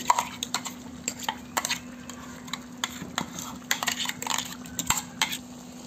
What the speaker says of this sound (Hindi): अब मैं इसे अच्छी तरीके से मिला लूँगी